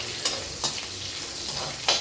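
A radish pickle mixture fries in a pan with a constant close sizzle, broken by a few brief stirring scrapes, with nobody talking.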